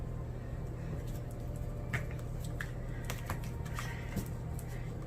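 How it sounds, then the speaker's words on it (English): A deck of Sacred Destiny Oracle cards is shuffled and cut by hand, giving scattered soft slaps and papery ticks at an irregular pace over a low steady background hum, close by, with no voices. "we're going to cut the deck"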